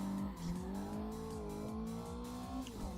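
Drifting car in Assetto Corsa: an engine holding a sustained high revving tone that wavers with throttle, while tires squeal and a rhythmic series of short sweeping bursts repeats throughout, moderately loud and with no talk.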